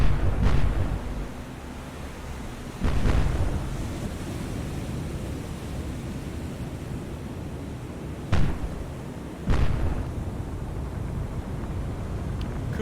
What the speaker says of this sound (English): Fire AP out of the main guns,